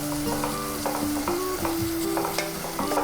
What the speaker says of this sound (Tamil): நல்லா நம்ம இந்த வெங்காயம் அந்த மட்டன் இதோட நல்லா மிக்ஸ் பண்ணி விட்ருவோம்